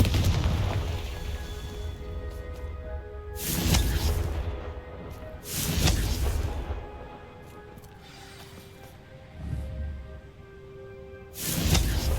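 Confringo blasting curse explosions in Hogwarts Legacy, a series of loud booming bursts spaced a few seconds apart, each with a heavy low rumble and crackling tail, over a quiet magical ambience with no talk.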